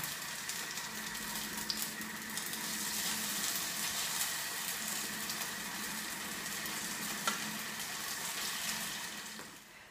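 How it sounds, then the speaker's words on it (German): Steady, dense sizzling of potato pancakes frying in hot oil in a pan, constant and close, with an occasional faint clink. "jetzt können wir loslegen und das Ganze in der Pfanne schön braun braten"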